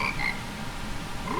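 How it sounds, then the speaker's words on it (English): Don Gero frogs from the Zelda game Majora's Mask croak continuously in a soft, steady game chorus. Short higher tonal calls sit above it and a rising pitched tone enters near the end. "Sing it, frogs!"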